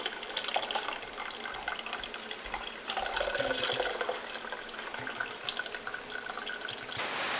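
Water running and trickling through malted grains while sparging a homebrew peaches and cream ale, a steady close splashing flow that continues throughout.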